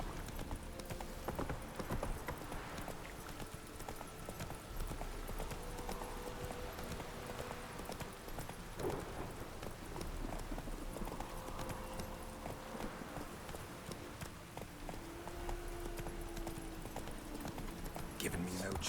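Hooves of Roach, the horse in The Witcher 3, clip-clop in a quick, steady galloping rhythm throughout, with game music and voices talking over the running beat.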